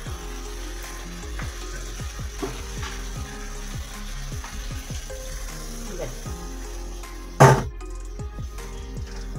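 Paneer gravy sizzles and bubbles steadily in a pan as a splash of water goes in, with a sharp hiss near the end over soft stirring clicks.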